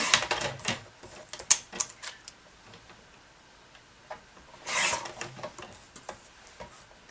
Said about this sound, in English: I'm just gonna cut down until I get to round about the size I want